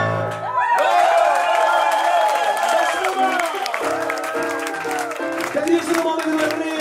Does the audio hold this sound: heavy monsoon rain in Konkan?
no